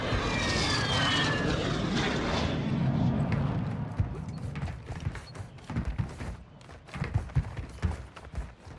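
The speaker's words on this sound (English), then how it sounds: "Enemy UAV overhead." In Call of Duty: Modern Warfare II, an enemy UAV aircraft drones overhead with a loud sustained engine roar that fades after a few seconds, followed by scattered thuds and impacts.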